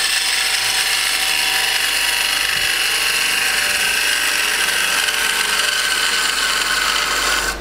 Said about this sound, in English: I've also made sure that I sharpened my bowl gouge so I get a nice clean cut.